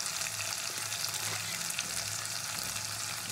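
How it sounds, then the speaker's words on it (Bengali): Mustard paste and spices frying in a pan for a Bengali mustard curry, with a steady, dense sizzle that holds close and loud throughout while being stirred, no talking. "তো সর্ষে বাটাটা দিয়েও খুব ভালো করে নাড়িয়ে নেবো মশলাটা।"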